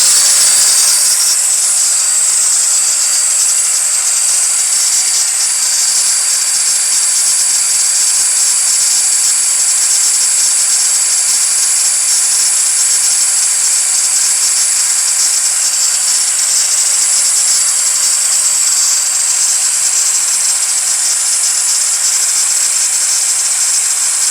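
A Metabo W 18 L BL cordless angle grinder runs at full speed of about 9,000 rpm, a loud, steady, high-pitched whine that holds unbroken throughout, close by and with no voices.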